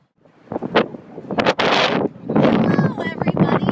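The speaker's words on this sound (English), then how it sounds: "It's a little bit windy." Wind buffets the microphone outdoors beside TD Garden in Boston, with loud gusty rumbles and rustling under a person speaking.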